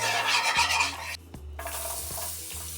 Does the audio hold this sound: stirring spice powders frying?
yes